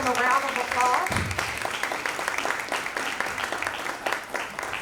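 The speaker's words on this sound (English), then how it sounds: "let's give them a round of applause" An audience claps for middle school dancers at an advisory board meeting, a steady moderate round of applause that runs through most of the clip, with someone speaking over it at the start.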